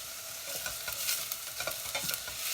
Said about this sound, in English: I'll keep coming back to that and stirring it round from time to time